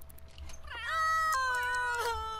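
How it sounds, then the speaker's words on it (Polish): A cat meows in The Sims 3, one drawn-out rising and falling meow followed by a second higher, wavering cry, close and clear over faint background hum. "Luśka, przestań męczyć kota."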